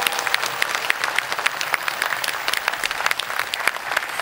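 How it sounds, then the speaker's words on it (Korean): Warm audience applause at an outdoor expo concert in Hamyang, Korea, with many hands clapping in a dense, steady crackle that holds throughout, fairly loud with a faint crowd murmur and no speech. "여러분 그 노고에 여러분 뜨거운 박수 한번 부탁드리겠습니다"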